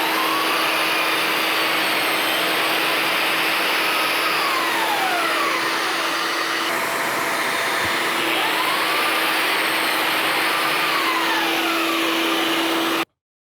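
Biscuit joiner plunge-cutting slots in a wooden shelf with a dust hose attached, a steady loud motor whine running almost continuously with slight pitch dips during each plunge, then cutting off abruptly at the end.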